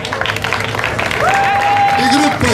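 Applause from a crowd at the prize ceremony of a car slalom race in Oppido Mamertina, steady and fairly loud under someone talking, with a brief sustained tone partway through.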